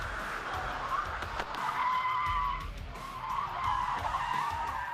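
Car tires skidding and squealing during FBI defensive driving training at about 45 miles an hour without brakes, a loud, wavering screech over engine rumble that comes in repeated sweeps.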